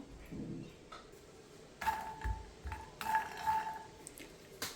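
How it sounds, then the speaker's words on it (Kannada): Makhana (fox nuts) go into a pan and are fried and stirred, making light rattling clinks and scrapes against the metal in irregular bursts, fairly quiet and close, with no talking. "ಬಾಂಡಿಗೆ ಇವಾಗ ಮಕಾನ ಹಾಕ್ತಾಯಿದ್ದೀನಿ ಹಾಕ್ಬಿಟ್ಟು ಫ್ರೈ ಮಾಡ್ಕೊಳ್ಳೋಣ"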